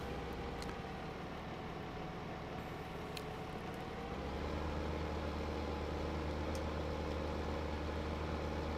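A New Holland tractor from a farming video game idles steadily, a low constant engine drone that deepens slightly midway, with faint clicks and no talking.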